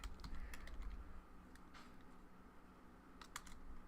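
Typing on a computer keyboard during a Python programming session, a quick burst of clicking keystrokes at the start with a few more taps later, close and fairly quiet.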